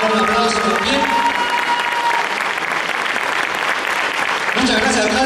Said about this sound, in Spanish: Le vamos a dar un aplauso también.